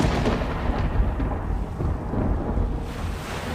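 A thunderstorm sound effect for a pirate horror story, with a continuous heavy rumble of thunder and a rain-like wash, loud and enveloping, with no other sounds.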